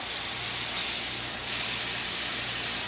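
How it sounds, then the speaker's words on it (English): Fat along the edge of a ribeye steak sears in a hot pan on a keto cook, giving a steady, close, bright sizzling hiss that swells slightly halfway through, with no voices. "So I'm searing the fat on the side of the ribeye."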